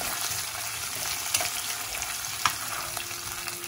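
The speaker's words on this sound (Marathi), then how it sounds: "जिरं हलकंसं ब्राऊन झाल्यानंतर आपण त्याच्यात उकडलेले बटाट्याचे तुकडे टाकायचे आहेत" Boiled potato pieces frying with lightly browned cumin in a pan, a dense steady sizzle broken by a few sharp spoon knocks and stirring scrapes, close and unaccompanied.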